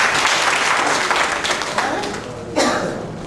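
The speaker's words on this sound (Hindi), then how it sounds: "जोरदार तालियों से इनका इस्तकबाल कीजिए।" Audience applause at a community conference welcoming a speaker to the stage, a dense burst of clapping from a nearby crowd that thins out, then swells briefly again before fading.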